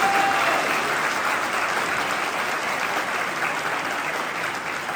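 Sustained audience applause at a Paris press conference, a broad, steady sheet of clapping from many people that holds evenly and eases slightly toward the end.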